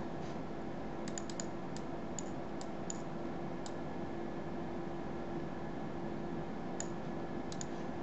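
Fingers type on a computer keyboard to enter a website address, with scattered light clicks over a quiet hiss.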